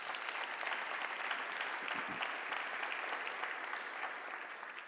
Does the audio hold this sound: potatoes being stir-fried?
no